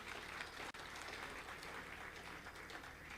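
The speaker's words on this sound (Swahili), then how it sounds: "tuwapigie makofi." Audience applause after a remark about a large hotel investment project in Zanzibar: steady, dense clapping from a crowd at moderate distance, continuing evenly throughout with one brief drop.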